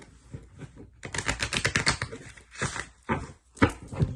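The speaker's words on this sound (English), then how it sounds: "I'm going to shuffle one more time." A deck of tarot cards is shuffled close up, in quick bursts of rapid riffling clicks separated by short pauses, with no talking.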